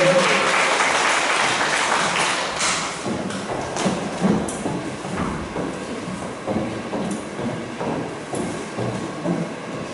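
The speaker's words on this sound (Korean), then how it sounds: "박수 부탁드립니다." Audience applause for a saxophone singer's stage performance, strong at first and then thinning into scattered claps with a few thumps.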